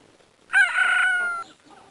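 A single rooster crow from the Richard Scarry Busy World farm game, one loud, clear cock-a-doodle-doo lasting about a second, heard alone against a quiet background.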